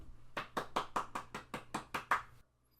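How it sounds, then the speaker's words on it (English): Applause follows an award winner's announcement at a casual awards show: about nine sharp, evenly spaced claps, close and fairly loud, then a sudden stop into silence. "Everyone, let's give Furfur a big round of applause."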